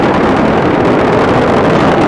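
Space Shuttle Atlantis liquid-fuel main engines roar during the STS-129 launch, a loud, dense, unbroken rumble with no break over a short stretch.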